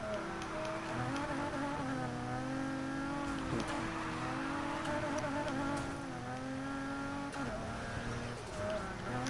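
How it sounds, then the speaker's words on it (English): A high-revving sports car engine in a racing video game drones steadily with rising and falling pitch through gear shifts, continuous and fairly loud. "Engine sounds so fucking cool."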